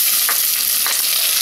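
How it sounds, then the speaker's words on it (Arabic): Onion sautéing gently in about a quarter cup of oil in a pan, with a loud steady sizzle close by and two brief scraping stirs. "احاول اشوحه خفيف جدا، مش مطلوب ان هو يتحمر"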